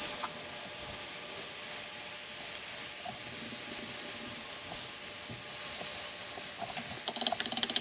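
Tap water runs in a steady, hissing spray over cored jalapeno peppers being rinsed, with a few light clatters toward the end.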